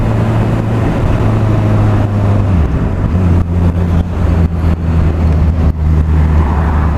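A Honda CBR600F motorcycle underway, its engine droning steadily and loudly with a strong low hum that shifts pitch as it changes gears, mixed with constant wind rush and no talking.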